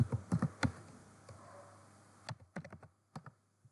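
Keys on a computer keyboard are tapped in quick bursts of clicks into a search box, with a pause in the middle, faint and close in a quiet room.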